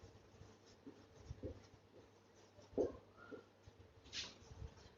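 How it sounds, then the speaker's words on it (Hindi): A pen writes by hand on paper in a quiet room, with faint, scattered scratching strokes in short bursts and soft pauses between them. "एग्जांपल में लिख रही हूं"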